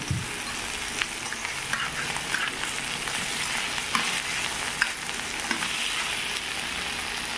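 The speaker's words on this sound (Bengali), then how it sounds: "মাশরুমটা লবণ হলুদ ভেজে নিচ্ছি" Mushrooms with salt and turmeric sizzle steadily in a frying pan, close up, with occasional scraping and stirring knocks over the constant hiss of the oil.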